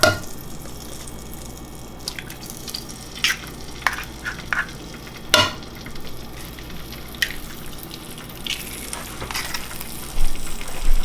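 Eggs and buttered bread fry in a Caraway pan, a soft continuous sizzle broken by scattered clicks and scraping taps of a utensil, with a few louder clatters near the end.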